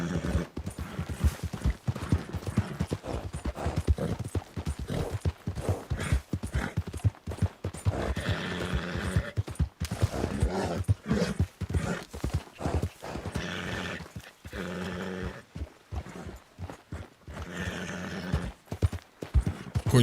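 Steady clip-clop of horse hooves from Red Dead Redemption 2, an even rhythmic trot lasting throughout, close and fairly loud with occasional whinnies.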